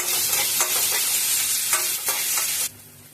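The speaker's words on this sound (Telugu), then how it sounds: "ఒక ఉల్లిపాయని కట్ చేసి వేసేసుకుందాం. ఉల్లిపాయలు మనకు కాసేపు ఫ్రై అవ్వాలి" Chopped onion fries in hot oil with a loud, steady sizzle, stirred now and then with scraping bursts, before the sound cuts off abruptly near the end.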